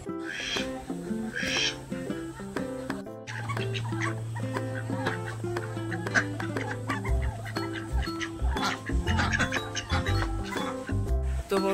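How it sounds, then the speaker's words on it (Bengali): A pet duck calls outdoors in a run of repeated, nasal honking cries that come in irregular bursts over a low, steady background drone. "তো আমার এই প্রিয় হাঁসটা, ওই শোনা"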